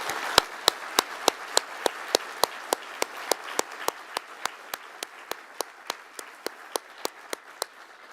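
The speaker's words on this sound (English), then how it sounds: "So give Chang Yong a big welcome round of applause." Steady, evenly spaced claps, about three per second and fairly close, greet IMF figure Chang Yong at the Michel Camdessus Central Banking Lecture, carrying on alone for about eight seconds with no talk.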